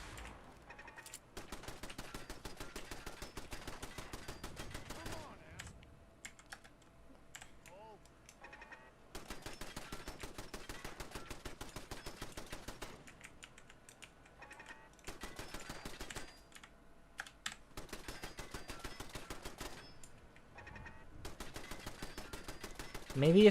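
A single turret in a factory-building video game fires rapid, even bursts of small gunshots, steady rattling stretches broken by short pauses, with a voice talking faintly underneath.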